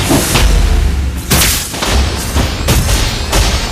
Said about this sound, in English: Our turret is under attack.